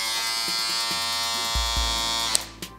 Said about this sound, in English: My Andis Pro 4 shaver.